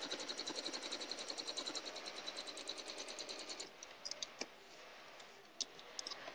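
A sewing machine stitches quilt pieces together, a rapid even run of close mechanical clicks for a few seconds, then stopping and leaving a few scattered clicks and taps.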